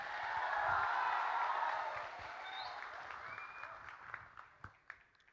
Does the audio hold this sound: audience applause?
yes